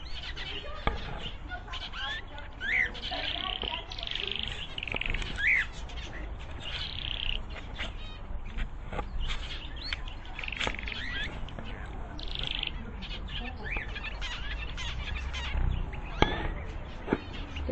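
Several birds chirp and squawk close by in short bright calls scattered over a low background rumble, with no one talking.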